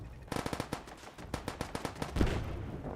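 Rapid gunfire bursts in Fallout 4 with ricochets, a dense string of sharp shots followed by a few spaced ones and a heavier thump, loud and close with no talk.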